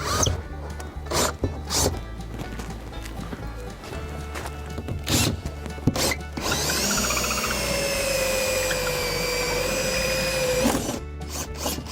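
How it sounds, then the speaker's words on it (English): A power drill whines steadily for several seconds, biting into weak wood in a Jayco 24 BHM camper with a grinding buzz, after a few scattered knocks and handling clatters. "go around to the other side and drill it in"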